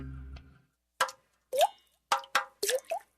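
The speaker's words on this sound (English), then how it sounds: "Hear that? That's the sound of water coming from leaking pipes." Water dripping from leaking pipes: five or six separate plopping drips at irregular intervals, close and clear against near silence, after a brief fading low hum at the start.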